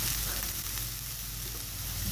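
Finely chopped capsicum and carrot hiss in a frying pan with softened onions, a loud, continuous, close sizzle with no voices.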